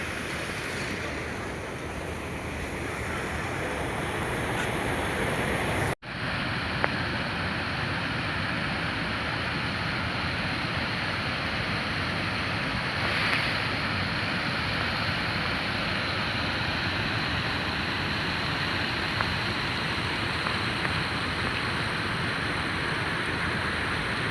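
Floodwater rushing over and along a rain-damaged road in the Jajon Doaba area of Punjab after monsoon rains, a steady, broad, loud roar that continues without a break and has no voices in it.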